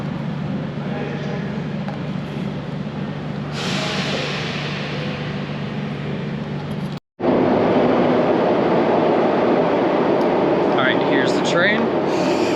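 A train in Serbia rumbles steadily nearby, a low rolling roar that briefly drops out, then returns louder with higher rattling and squealing of wheels on track.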